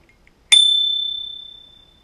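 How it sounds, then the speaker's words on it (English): A Merry Cycle bicycle bell on a 2014 Giant Roam 2 touring bike is struck once, giving a bright, clear ding that rings on and fades slowly in otherwise quiet surroundings. "wanted to show you the Merry Cycle bell"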